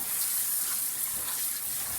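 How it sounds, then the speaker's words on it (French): Food being washed under a running kitchen tap, a steady, close, unbroken rush of water with no talking. "So now we need to wash it."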